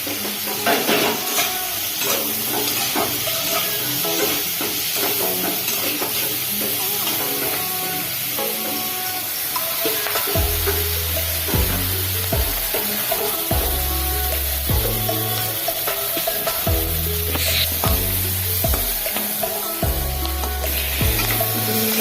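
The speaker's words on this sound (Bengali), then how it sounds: "এগুলো ভাজবো সফট মিলে একটু সফট করে নরম" Vegetables for chow mein, seasoned with salt and a little turmeric, fry in a pan with a loud, continuous sizzle. Scraping stir strokes run throughout, and dull low thumps start partway through.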